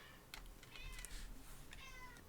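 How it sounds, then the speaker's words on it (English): Binks, a pet cat, gives a few short excited meows close by, with faint keyboard typing in a quiet room and no talk. "Now, normally I'd edit out that crying, but that's one of my co-hosts, my cat Binks"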